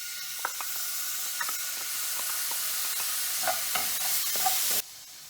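Garlic goes into a hot pan for crawfish étouffée and fries with a steady sizzle, broken by scattered scraping stirs that stop abruptly near the end; no one speaks.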